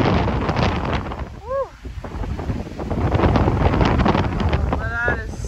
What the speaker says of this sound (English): it is crazy windy up here